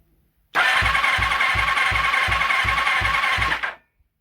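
A 1985 Kawasaki GPZ600R Ninja motorcycle engine cranks over steadily for about three seconds during a compression test, with evenly spaced low pulses from each compression stroke, loud and close, then stops.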